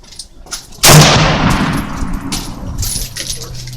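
A single loud gunshot cracks close by at an outdoor shooting range, its sharp blast trailing into a long rolling echo, with people talking quietly around it.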